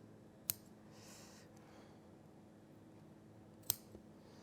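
Two sharp, isolated snips from scissors cutting a tiny triangle out of leather during a leather furniture upholstery repair, each a quick close click separated by quiet room tone.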